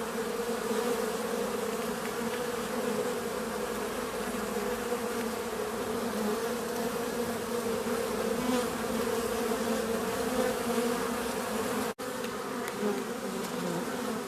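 A dense, steady buzzing of many honeybees at a hive entrance with a reducer fills the clip, close and continuous, with no voices and only a brief dropout near the end.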